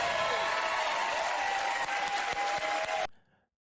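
Audience applauding and cheering, a dense wash of clapping that is sustained at an even level, then cuts off abruptly into near silence at the end.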